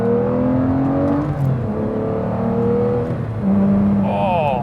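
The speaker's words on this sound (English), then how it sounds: "being a V12, it's such a buttery smooth power delivery. The way it revs through the power band is just so satisfying." An Aston Martin DBS with a V12 engine and manual gearbox revs smoothly under load, its loud, close drone rising in pitch in steps through the gears.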